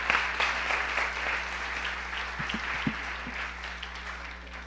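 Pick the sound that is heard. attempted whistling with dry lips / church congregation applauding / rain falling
church congregation applauding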